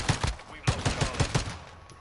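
Gunfire from the TAC-V battle rifle in the game Modern Warfare II: two quick shots, a short pause, then a fast run of about five sharp, loud reports.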